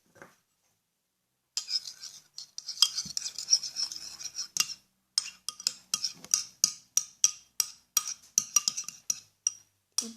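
A spoon stirs a jelly mixture of starch and flour in a dish, making a steady run of close, crisp clinks and scrapes that grows into a regular rhythmic beat after a brief pause.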